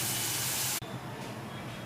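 Water splashed into a hot pan of fish curry masala for tengra fish curry gives a loud, bright hissing sizzle that cuts off abruptly, followed by a steadier, quieter bubbling hiss.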